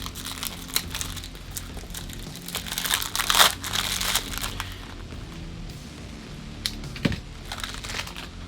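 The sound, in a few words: unwrapping packaging of a Batman fragrance bottle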